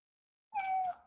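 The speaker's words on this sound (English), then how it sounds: "those cats, Walter, they're the best" A cat gives one clear, close meow that starts after a moment of silence and lasts about half a second.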